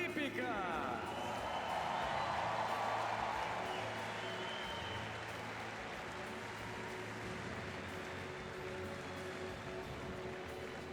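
Sustained broad applause and crowd noise filling a velodrome during a Paralympic track cycling medal ceremony, steady and dense for the whole stretch, easing slightly in loudness partway through, with no distinct voices standing out.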